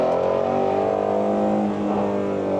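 Shelby GT350R engine accelerating hard while driving, a loud, steady, rising engine note with strong harmonics heard from inside the car, with no talking.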